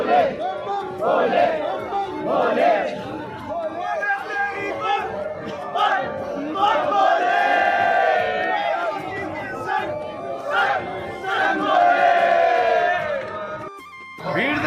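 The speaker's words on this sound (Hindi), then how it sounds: "भीड़ देखो भाई।" Dense crowd of pilgrims at the Kedarnath temple opening, a loud continuous roar of many voices with rising chants and shouts throughout.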